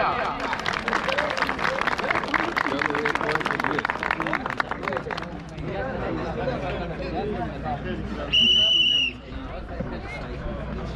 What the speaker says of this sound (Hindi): कोयटा के कैप्टन गुलजार के लिए तालियां